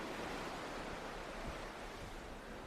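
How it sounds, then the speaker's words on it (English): Steady, even rush of water streaming past the hull of the Carnival Glory cruise ship, heard from a quiet backstage crew area; a continuous, fairly close broadband whoosh with no talk. "you're hearing the whooshing water going by"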